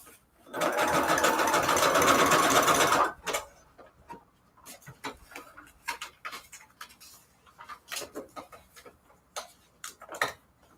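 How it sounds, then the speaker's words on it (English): A sewing machine runs a zigzag stitch over the seams of joined paper strips for a Valentine's scrap-paper junk journal. It hums loudly and steadily for about three seconds, then falls to scattered soft clicks and handling taps. "let's go ahead and zigzag stitch over the seams"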